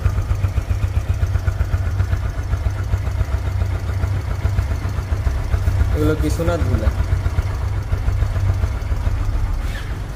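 A Hero Ignitor 125 motorcycle bought in late 2022 and kept in showroom condition idles nearby with a steady, throbbing low rumble, while someone speaks briefly over it midway.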